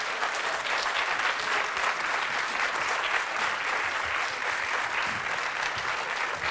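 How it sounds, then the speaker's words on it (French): A TV studio audience applauds loudly and steadily for several seconds, a dense, continuous clapping that fills the room with no gaps. "Allez donc, on peut l'applaudir très fort."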